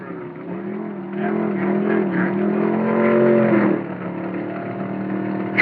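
A vintage Dodge drag car at the U.S. Nationals makes a steady engine roar down the strip, a loud sustained note that swells and then drops off near the end of the run.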